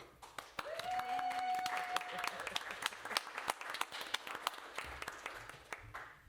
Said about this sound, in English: I have to clap for that.